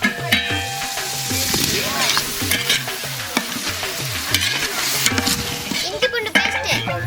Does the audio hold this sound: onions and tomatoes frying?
yes